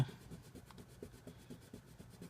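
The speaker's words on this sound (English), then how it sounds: "I am pressing kind of hard on the pencil. Just pack the color in there." Colored pencil pressed hard and shading across paper, a steady close scratchy rasp of repeated strokes at an even rhythm, quiet and alone.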